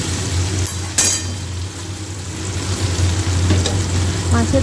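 Hilsa fish head with taro stolons stir-frying in a pan gives a steady, close sizzle with scraping stirs and a sharp clink near the start.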